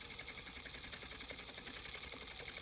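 Felting machine driving a heavy gauge needle into wool, a fast steady mechanical chatter of rapid needle strokes running continuously and fairly close throughout.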